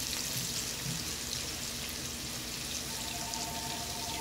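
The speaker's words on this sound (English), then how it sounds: "I'm gonna let these fry up." Onions frying in a skillet with about half a cup of oil give a faint, steady sizzling hiss that continues without a break.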